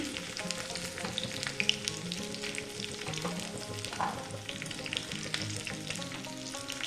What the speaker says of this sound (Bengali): সাদা তেল দিয়ে দিলাম আদাটা দিয়ে দিচ্ছি আগে লঙ্কাও দিয়ে দিচ্ছি